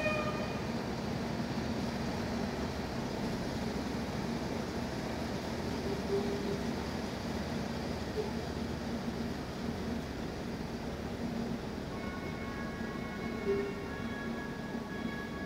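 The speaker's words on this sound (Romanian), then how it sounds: "Între timp pleacă trenul." A train pulls out of a Romanian station with a steady low rumble and hiss of rolling cars at moderate distance, faint metallic squeals rising briefly near the end, and no talk.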